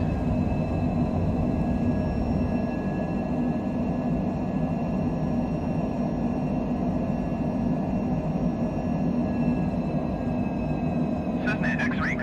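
Cessna aircraft engine throttling up in Microsoft Flight Simulator, a steady loud propeller drone with constant tonal whine running throughout, under occasional speech.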